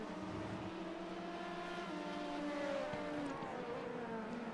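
Sim-racing prototype and GT cars at Le Mans near Tertre Rouge: several engines drone and whine steadily with shifting pitch as cars approach and pass at a distance, fairly faint.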